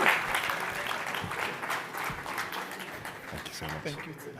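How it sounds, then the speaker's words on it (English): Audience applause at an investment summit in the UK after a Ghana Free Zones Authority CEO is welcomed to the stage, a dense steady wash of clapping with voices mixed in throughout. "Bigger round of applause than that, please."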